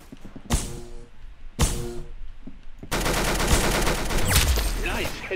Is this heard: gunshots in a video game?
yes